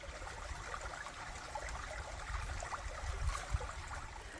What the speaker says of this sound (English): I've been following this little creek back and forth